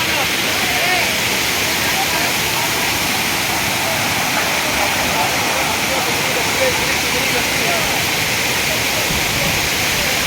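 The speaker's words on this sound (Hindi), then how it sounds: "झरने चल रहे हैं, कुछ मिनट में पानी यहाँ तक आ जाएगा।" Heavy floodwater roars like waterfalls during torrential rain, a constant loud, dense rushing wash that never lets up, with a voice speaking faintly beneath it.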